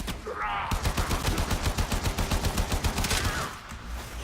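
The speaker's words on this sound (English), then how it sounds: "I'm shooting like an idiot right now" Rapid automatic gunfire in Warframe, a steady stream of close, loud shots fired in quick rhythm for about three seconds before cutting off.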